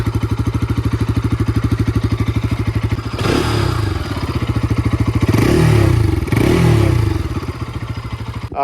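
Close and loud, a Bajaj Pulsar RS200 motorcycle of the BS6 update runs with a steady rhythmic engine throb, swelling briefly in two short revs before settling back to idle.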